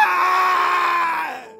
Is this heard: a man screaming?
yes